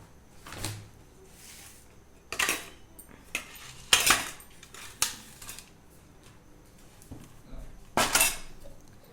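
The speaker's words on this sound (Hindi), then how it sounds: "बर्तन इतने सारे हो रहे हैं ना।" Dishes, pots and cutlery clatter and clink in a home kitchen sink, with several sharp bursts of clanking spread across the clip between quieter scraping, close to the microphone and no talking.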